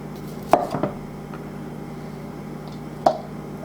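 A knife cutting cauliflower on a board, two or three sharp chopping thuds spaced a couple of seconds apart, close and clear over quiet kitchen background.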